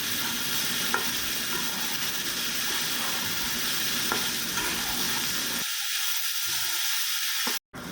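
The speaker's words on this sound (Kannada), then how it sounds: "ಇದನ್ನು ಚೆನ್ನಾಗಿ ಹುರಿಬೇಕು." Bitter gourd stir-fry frying in a pan, with a steady close sizzle and faint stirring scrapes that cut off abruptly near the end.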